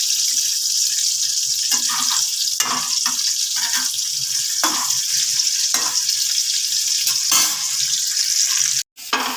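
Potatoes frying in a pot over a medium gas flame with a little salt, giving a loud, continuous sizzle with occasional stirring scrapes and a brief break near the end.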